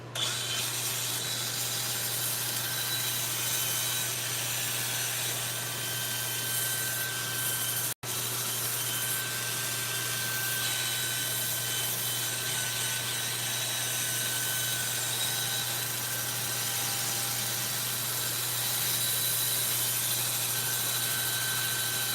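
Steady broadband whir of sanding a wet wood bowl on a lathe, a continuous loud hiss with a low motor hum beneath, running unbroken except for a momentary dropout partway through.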